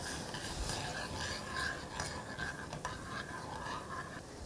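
Potato-starch slurry is stirred into a simmering sauce in a pot, with continuous soft scraping and occasional utensil clinks against the metal.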